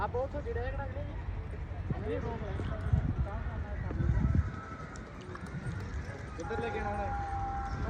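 Horse hooves clop on the ground amid a busy livestock fair, with people talking over them and a horse whinnying.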